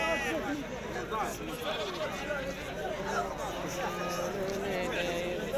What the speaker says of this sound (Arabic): هذا خروف تبارك الله، اللهم بارك